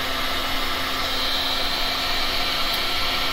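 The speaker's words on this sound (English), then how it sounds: "let me try to blow this out towards the edge" Air is blown steadily across a wet resin pour on a divided strainer, making a constant, close whooshing hiss with a faint underlying hum and no pauses.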